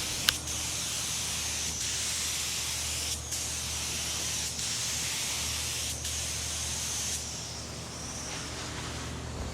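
A spray gun lays a thick third coat of paint onto a car bumper in a series of steady hissing passes, each broken by a brief pause, close and even.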